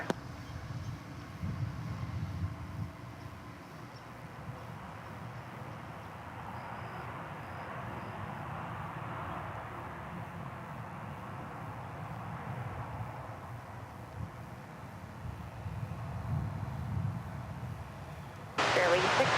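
A jet airliner takes off from runway 36 right at DFW Airport, heard as a steady, distant broadband engine roar that holds for nearly twenty seconds with little change in loudness.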